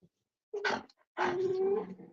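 Dogs in a neighborhood in Mexico: a short bark and then a longer drawn-out howling bark, fairly close and loud, with a brief sound at the start.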